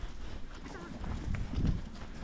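A horse's hooves clip-clopping on the ground during lunging, a few close, muffled thuds that build toward the end, mixed with people talking.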